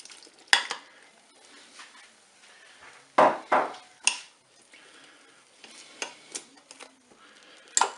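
Green beans being added and stirred with a utensil in a Cookeo cooker alongside chicken, with scraping stir strokes, a couple of louder clattering bursts and a faint sizzle underneath, close and unvoiced.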